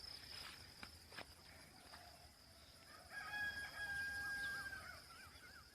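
A rooster crows outdoors near a home with jowar crops growing, a drawn-out call rising in the second half over faint insect chirping and quiet rural ambience.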